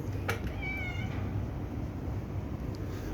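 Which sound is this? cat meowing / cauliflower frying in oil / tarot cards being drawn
cat meowing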